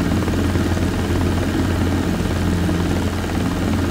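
A Robinson R22 helicopter in flight, its rotor and engine giving a loud, steady drone that stays constant throughout with no other sound over it.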